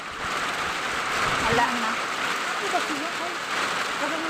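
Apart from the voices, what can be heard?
rain falling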